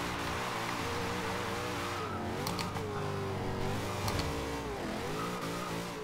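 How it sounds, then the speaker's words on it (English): A 2014 Chevrolet Corvette Stingray in Forza Horizon 2 holds a loud, steady engine note that rises and falls with its spooling, while tire squeal and skidding break in near the middle. "You can hear the blow-off valve. Or not so much a blow-off valve, just the sort of spooling,"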